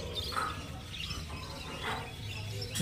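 Budgerigars at a crowded bird market in Garia give faint, scattered chirps and tweets over a dull background murmur, heard from a short distance.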